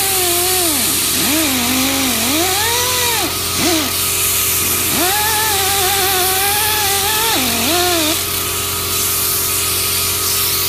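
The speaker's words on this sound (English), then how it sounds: "go back with the other part of a buffing wheel the opposite direction and make sure it's clean" A high-speed buffing wheel polishes an aluminum ring for a 2015 Silverado A-pillar, giving a loud continuous whine whose pitch dips and recovers repeatedly as the piece is pressed against the wheel.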